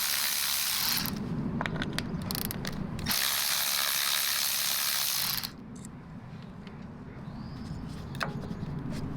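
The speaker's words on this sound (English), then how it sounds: "use an 8mm socket to remove the ignition coil bolts" An 8mm socket ratchet loosening ignition coil bolts on a 1995-1997 Jaguar XJ6, several bursts of rapid close clicking separated by short pauses, quieter toward the end.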